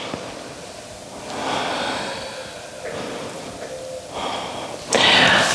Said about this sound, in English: One more strong breath.